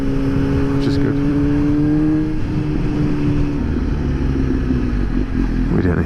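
A Suzuki GSX-S 750 fitted with a Power Commander 5 and custom tune accelerates, its engine rising in pitch then easing off under loud, steady wind rush recorded from the rider's position.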